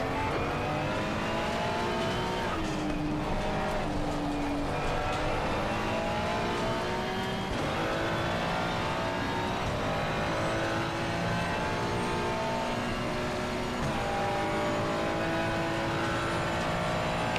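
A McLaren race car in the Live for Speed racing game screams past on a straight, a loud sustained high-revving engine whine with shifting pitch and gear changes, heard alone without talk.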